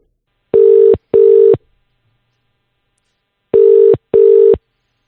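A telephone line rings out while a call is placed to a guest: two pairs of short, steady double-pulse ringing tones, clean and fairly loud, separated by a long silent gap.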